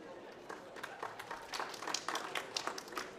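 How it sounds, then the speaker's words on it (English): Applause for a speaker at a climate conference panel, a soft scattered clapping from a modest audience, fairly faint and uneven over a few seconds. "And another round of applause for Sonia"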